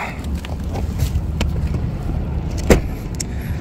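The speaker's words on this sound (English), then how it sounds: "It's super windy here in Ontario." Strong wind buffets a parked truck cab on an Ontario roadside, a steady low roar with gusts and rattles throughout, and one brief sharp knock near the end.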